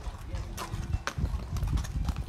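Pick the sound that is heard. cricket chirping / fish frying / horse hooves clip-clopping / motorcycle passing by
horse hooves clip-clopping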